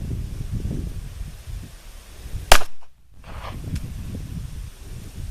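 A single sharp gunshot from a Ruger LCP Max .380 pistol, loud and close, cracking once and dropping off abruptly, fired outdoors against steady wind rustle.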